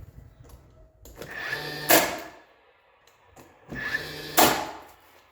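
Brad nailer driving nails into wood corners of a DIY shooting backstop, two sharp pneumatic bursts about two and a half seconds apart, each preceded by a short mechanical shuffle, close and fairly loud.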